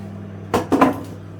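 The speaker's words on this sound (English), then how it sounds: "I have a 900 watt microwave, so I might be overcooking them slightly" A 900-watt microwave oven cooking egg bites gives a steady low electrical hum, broken midway by two quick, close clunks like a door or cupboard.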